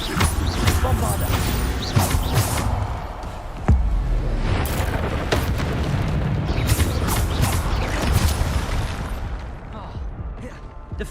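Bombarda explosion spells go off in Hogwarts Legacy combat, with repeated booming blasts and crashes among other spell effects. The fight is loud and dense, with a strong hit near the four-second mark.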